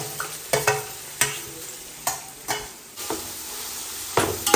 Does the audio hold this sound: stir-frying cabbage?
yes